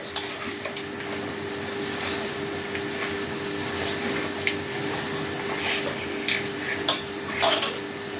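Mutton curry being stirred in a pot in a home kitchen, a soft continuous scraping and faint sizzle running steadily at low level, with small irregular clinks of the spoon against the pot and no talk.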